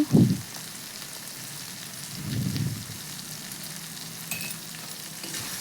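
Spiced masala with sauce and salt for a fish roe curry sautéing in a pan: a quiet, steady sizzle broken by two short bursts of stirring.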